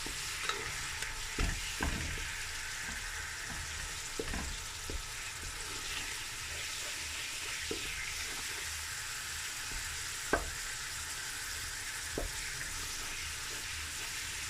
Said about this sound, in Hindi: टमाटोज़ को मैं इसके साथ 2 से 3 मिनट जो है वो फ्राई करती हूँ, ताकि ये अच्छे से मिक्सअप हो जाएं।